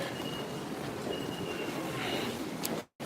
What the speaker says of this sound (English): Try and catch this train